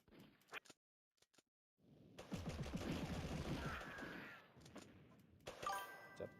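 Gunfire from the Mini Militia video game, a burst of rapid shots and metallic dings running several seconds after brief sporadic pops, with a short sharper volley near the end.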